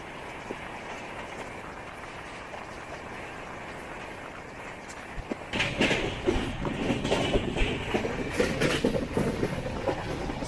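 Mysuru–Kochuveli Express running on tracks near Bengaluru, a steady rolling rumble that grows louder and busier after about five seconds, with rhythmic wheel clatter continuing to the end; no talking.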